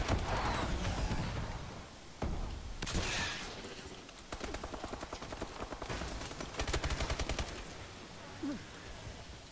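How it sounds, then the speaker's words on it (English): A sentry gun in a first-person shooter fires in long rapid bursts, a sustained mechanical rattle mixed with other gunshots and scattered game noise over several seconds. "they got a sentry gun"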